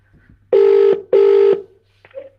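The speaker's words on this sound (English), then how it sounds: "So let's get Alla on the phone" A telephone rings while a call is placed, two loud, evenly spaced tone bursts separated by a short gap, followed by a faint click and a brief softer tone.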